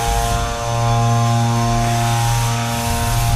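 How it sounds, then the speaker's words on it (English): Spinning drum weapon on a 30lb combat robot in an arena fight, a loud steady mechanical hum with stacked harmonic tones, rising slightly in pitch and holding constant throughout. "you can hear that drum humming"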